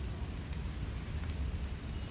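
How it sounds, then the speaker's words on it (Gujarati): Steady rain falling outdoors by a roadside snack stall on Labh Pancham, a dense, even hiss that holds without break, with no voices. "વરસાદ તો ચાલુ છે"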